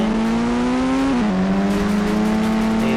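The Tarzan car in the Indian Bike Driving 3D video game drives fast with a loud, close engine note. The single tone climbs steadily, dips briefly, then holds high, with no talk.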